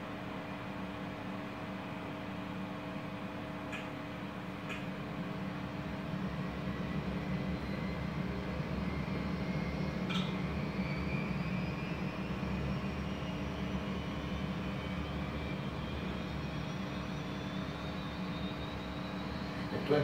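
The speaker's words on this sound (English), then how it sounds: "And we can now start the engines." Jet engines spool up on an RJ100 regional airliner in the Flight Simulator 9 game, a steady droning whine with a rising tonal hum that holds for the whole stretch, without talk.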